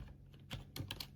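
Several quick keystrokes on a computer keyboard while entering a measurement into CAD software, light clicky taps in a short irregular burst, close and quiet with no talking.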